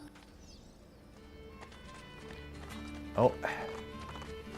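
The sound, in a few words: horse galloping away, from the video game Assassin's Creed Brotherhood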